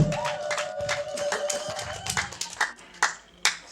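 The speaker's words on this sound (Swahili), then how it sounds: "Mpe Yesu Kristo makofi mazuri." Church congregation clapping during a Swahili worship service, scattered uneven hand claps with a sustained tone underneath, sharper isolated claps near the end.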